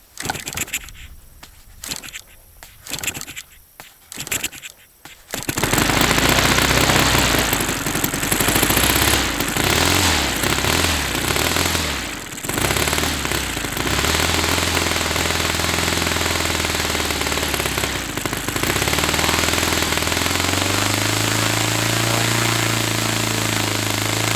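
A Saito FA-300T model glow engine is cranked with a few short bursts, then catches and runs loud and close with a steady buzzing drone that shifts slightly in pitch as it idles on.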